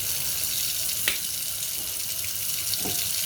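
Corn cobs are rinsed under a running kitchen tap, a steady close hiss of water splashing into a sink with a brief knock of the cobs.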